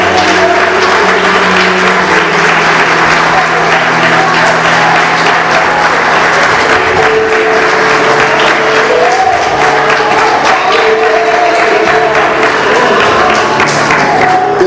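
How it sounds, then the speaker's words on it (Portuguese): Church congregation applauds continuously and loudly, a dense sustained clapping that fills the room with some cheering and crowd murmur mixed in. "Você pode aplaudir a Jesus?"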